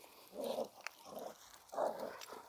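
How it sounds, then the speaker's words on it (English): A dog barks indoors in three short, muffled bursts spread over a couple of seconds, fairly faint and with no voices alongside. "Oh, shut up, stupid dog."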